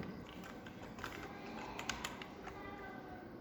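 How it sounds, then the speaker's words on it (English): Soft, quick keystrokes tap on a computer keyboard as a name is typed during a Windows 7 installation, close and fairly quiet over faint background hiss. "I'm going to type my name over here"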